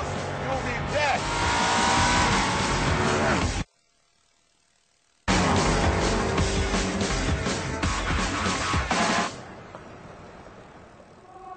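Ascari A10 supercar engine at flat-out speed, a loud, dense roar that cuts out abruptly for about a second and a half, then returns before easing off toward the end, with a voice speaking over it.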